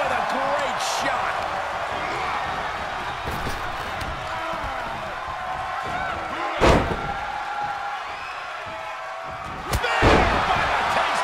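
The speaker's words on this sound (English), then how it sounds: "Landing face first. Power slam." A wrestler lands a power slam in the WWE 2K23 video game during a Batista vs Kofi Kingston match: two heavy, sharp thuds ring out over a crowd murmur, with commentary voices underneath.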